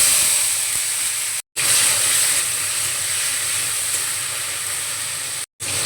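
Chopped tomato hitting hot oil already fried with black cumin (kalo jeere) for an okra dish, a loud, steady, close sizzle and hiss that carries on for several seconds, broken by two very brief silent gaps.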